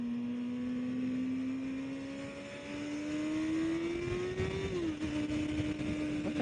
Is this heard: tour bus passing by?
yes